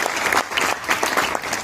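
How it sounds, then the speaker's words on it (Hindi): An audience applauds during a comedy drama, with dense, steady clapping that rises and falls in waves for the whole stretch and no talking over it. "इस बात पे तालियां तो बजनी चाहिए"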